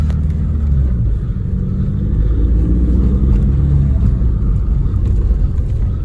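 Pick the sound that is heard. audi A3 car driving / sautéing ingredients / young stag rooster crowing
audi A3 car driving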